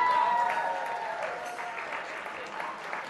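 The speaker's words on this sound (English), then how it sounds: "how about a big round of applause for Richard Halpern" Audience applause at a live Hollywood Cavalcade variety show, a steady wash of clapping that runs the whole time at moderate volume and slowly thins out toward the end.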